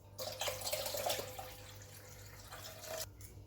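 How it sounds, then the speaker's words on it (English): Water streams steadily for about three seconds, a hissing, splashing pour into a pot while making tamarind rasam, then stops with a brief trickle. "Add 4 cups of tamarind water. 2 cups of water."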